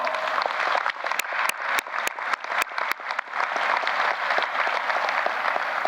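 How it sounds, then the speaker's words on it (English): An audience at a university presidential investiture breaks into sustained applause, a dense wash of clapping with a few sharp, louder claps standing out near the start, steady and fairly close throughout. "please join me in giving President Gee another hearty round of applause."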